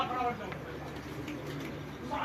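Pigeons coo softly at a pigeon keeper's loft in Lahore, low throaty calls repeating steadily in the background of a busy, noisy setting.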